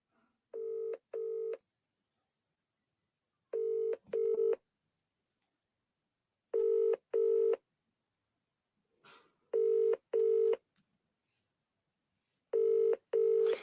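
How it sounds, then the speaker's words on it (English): A phone rings in repeated short double bursts, an electronic tone with pauses between each pair, heard clearly with no talking. "So now you heard that ringtone, right?"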